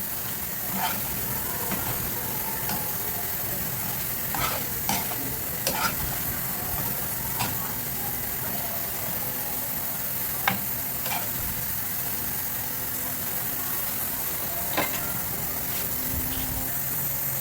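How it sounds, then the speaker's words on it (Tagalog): Carrots, celery and green beans sautéing in a pan for sotanghon, a continuous hissing sizzle with occasional sharp stirring clicks and scrapes over a long stretch, with no clear talking. "Ayan, igisa-gisa natin yan na maluto-luto yung vegetable."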